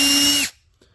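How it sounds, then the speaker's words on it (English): A handheld drill runs a number 8 machinist bit, 0.199 inch, into a plastic train motor box part, a loud steady whine with a strong tone that stops abruptly halfway, leaving near silence. "To drill them, I have a machinist drill bit set, and I am using drill bit number 8."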